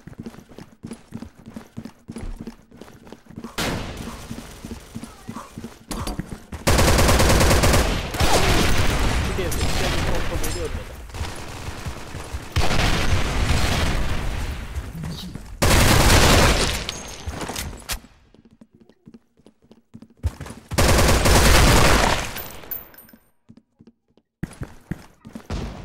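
Loud bursts of gunfire from the online shooter Special Force 2 come in several heavy volleys separated by quieter gaps, with voices talking in between.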